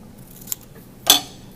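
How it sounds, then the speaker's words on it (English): Scissors snip through white craft material, cutting it into small squares and rectangles: two short, crisp cuts, a faint one then a sharper louder one, in a quiet room. "I'm actually going to cut this up into some little squares and rectangles"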